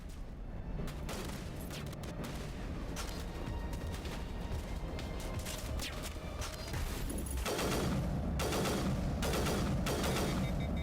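The player's gun fires in Mass Effect: Legendary Edition, rapid bursts of gunshots crackling loudly and almost continuously over a dense battle din.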